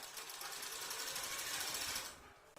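A sewing machine stitches a bra with a steady, fast, close mechanical whir that eases off near the end.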